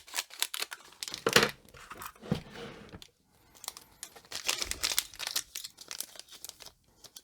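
Close crinkling of plastic packaging with scissors snipping and tearing sounds in irregular bursts, a brief pause, then more rustling and cutting.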